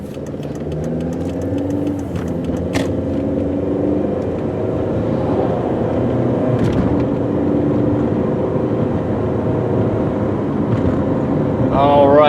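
A 2002 VW Beetle GLS coupe cruises with its engine running at a steady low hum and some tire and road rumble, plus faint shifting engine tones, all continuous and close around the cabin.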